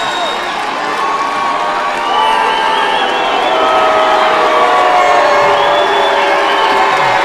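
A crowd cheers loudly at a live cage-fighting match in Missoula, a dense continuous roar of shouting and whooping that swells and holds throughout.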